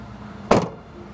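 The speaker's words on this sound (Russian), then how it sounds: "двери звенят вот так вот, когда ты их закрываешь, с таким дебильным звуком" A Toyota Camry door shuts with a single sharp, tinny clang, lacking sound insulation, that rings briefly before fading into quiet background noise.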